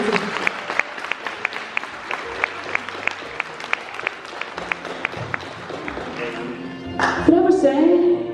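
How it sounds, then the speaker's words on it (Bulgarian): Audience applause for students at a school poetry recital, rhythmic clapping with sharp regular beats that builds into a louder burst of mixed clapping and crowd noise near the end. "Аплодисменти за нашите ученици."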